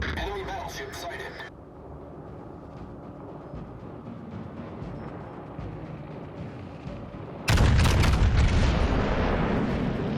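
Battleship Musashi firing a main-gun shell salvo in a naval video game, a sudden heavy booming blast near the end, loud and close after a stretch of rumbling background, with a voice talking earlier.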